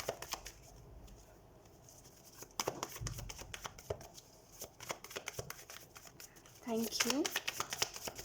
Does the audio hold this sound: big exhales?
no